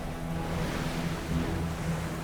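Floodwater rushes in a broad, steady roar, with a low hum running beneath and no voices.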